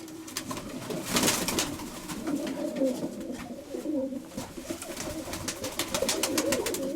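Pigeons coo continuously in low, rolling calls, with sharper clicks and rustles over the top, as a breeding pair of pigeons is handled nearby.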